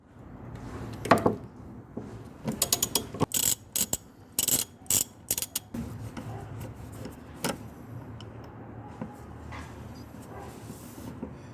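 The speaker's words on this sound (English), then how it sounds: "Now we can remove the steering linkage bolt and nut." A ratchet is worked on the steering linkage bolt and nut of a BMW E30. It starts with close, quick bursts of clicking, then settles into a low background hum.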